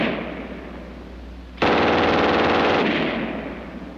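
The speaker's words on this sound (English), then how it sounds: "And last, the German 42 on the tripod." A German MG42 machine gun mounted on a tripod, at a World War II firearms comparison, cuts in after a quiet stretch with one loud, continuous burst of very rapid fire lasting over a second, then rings out and fades.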